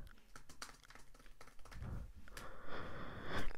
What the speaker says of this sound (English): and then we got my keyboard. It's a Logitech G